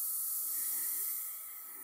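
Steady, close air hiss from an Iwata HP-CS airbrush spraying, holding constant then dropping slightly in level near the end.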